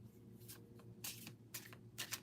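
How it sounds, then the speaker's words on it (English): A deck of reading cards is shuffled in quick, dry riffling bursts, three or four short rustles spaced about half a second apart over a low steady hum, close and fairly quiet. "I just shuffle, and it is either the card that flips out by itself or the one that refuses to go back into the deck"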